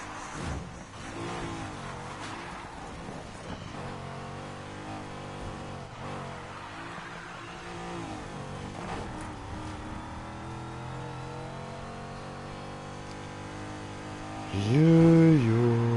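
A car drifting in NFS Heat on PS4, its engine droning and revving with shifting pitch and tire noise throughout, a louder tonal sound cutting in near the end.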